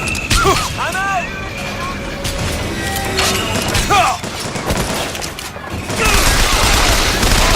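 Gunfire in the video game BioShock Infinite, a loud fusillade of rapid shots and crashes mixed with shouting voices and game effects, building into a dense burst near the end.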